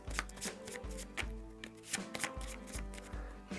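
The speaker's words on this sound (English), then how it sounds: "Shuffle that up" A deck of scavenge cards from the Shadows of Brimstone board game being shuffled by hand, steady rhythmic flicking and tapping close by, quiet, with no talking.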